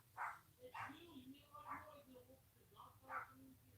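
A dog barks several times near the front door at home, short repeated yaps rising over steady indoor background noise, with a person talking faintly underneath.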